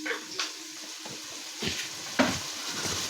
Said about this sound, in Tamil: வெங்காயத்தை போட்டு வதக்கவும்